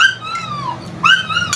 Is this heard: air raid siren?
no